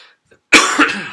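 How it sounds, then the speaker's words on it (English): One loud, close cough bursts out and trails into a second rough hack, after a brief moment of near silence. "sorry for keep coughing"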